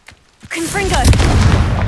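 A Confringo spell blast explodes in the Hogwarts Legacy video game, arriving after a brief quiet start and swelling into a loud, sustained booming rumble with crackling debris.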